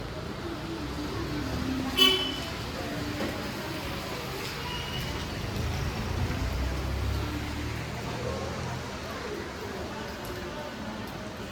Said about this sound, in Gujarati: ધીમી ધારે વરસાદ આવે છે,